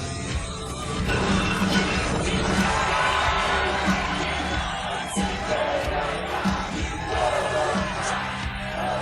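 Crowd at a Cobra Kai karate tournament scene cheering loudly, yells and whoops over a dense roar, with talk and thumps mixed in throughout.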